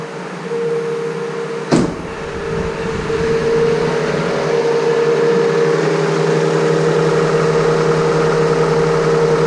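A cold Toyota Camry L engine idles steadily while warming up after timing belt, oil pump and crank seal work, a near, even hum broken early by one sharp click.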